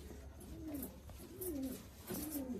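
Hungarian pigeons cooing softly at close range, a few rising-and-falling coos repeated in a gentle rhythm with no voices.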